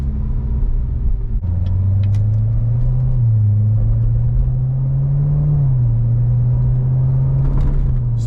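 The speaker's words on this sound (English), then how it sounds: "So going over these bumps, this road is not the greatest." A C7 Corvette Z06 with the Z07 package drives over a rough, bumpy road, its engine giving a loud, steady low rumble from inside the cabin, with a few faint knocks and thumps from the bumps.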